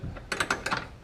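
An 8 mm ratcheting wrench turning a headlight adjusting screw on a 2016 Tacoma, a quick run of four or five close, crisp ratchet clicks lasting about a second.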